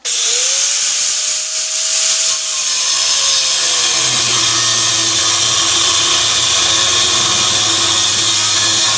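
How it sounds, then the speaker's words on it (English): A power tool cuts rebar, a loud high grinding whine that starts abruptly, shifts pitch as the blade bites into the steel, then settles into a steady harsh drone for several seconds. "Here's some rebar that we'll give a quick snip to."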